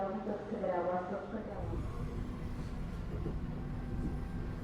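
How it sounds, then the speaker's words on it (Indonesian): The Kutojaya Utara premium passenger train sits at Kebumen station with a low, steady rumble and mechanical drone, while a voice speaks over the first part. "kereta api Kuto Jaya Utara telah tiba di stasiun Kebumen"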